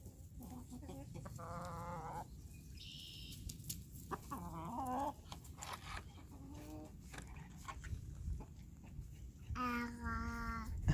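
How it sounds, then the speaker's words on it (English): Several chickens cluck and squawk in bursts nearby, their calls rising and falling over a low rumble of outdoor background noise. "He's feeding the chickens his cookies."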